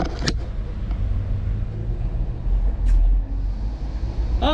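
A Deutz MAN Kat1 diesel engine runs steadily at idle with a low, continuous rumble, broken by a few sharp clicks and knocks, with no voices.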